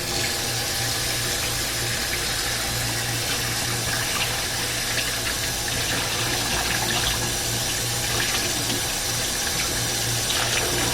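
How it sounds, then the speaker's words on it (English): Warm water runs from a tap into a bucket, a steady loud continuous gush and splash that lasts unbroken throughout with no talking. "Want to make sure to get comfortably warm water."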